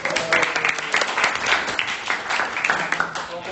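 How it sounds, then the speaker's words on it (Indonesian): A classroom group claps for a presenting student group, with a burst of applause from a small crowd that stays steady and fairly close for a few seconds, mixed with chatter. "mari kita berikan aplaus kepada kelompok 3"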